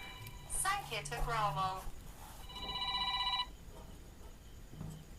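A telephone rings with an incoming call, a short electronic ringtone burst heard close by, with a voice speaking briefly before it.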